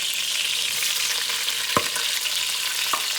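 Red pepper sizzling in hot oil in a pan that was used to brown chicken drumsticks and breast, a steady loud frying hiss with two brief stir clicks, no voices.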